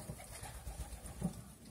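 Soft, low cooing of Van Bruyen pigeons, several throaty coos overlapping in a gentle, continuous murmur close by.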